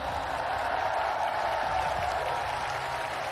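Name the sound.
audience applause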